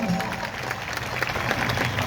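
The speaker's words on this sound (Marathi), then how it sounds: "सर्वांनी जोरदार टाळ्या वाजवून स्वागत करायचं" Audience applause welcoming a banjo player at a stage music performance, a dense continuous clapping wash from a crowd, fairly loud throughout the short burst.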